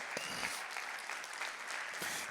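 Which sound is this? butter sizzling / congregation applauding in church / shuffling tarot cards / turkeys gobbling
congregation applauding in church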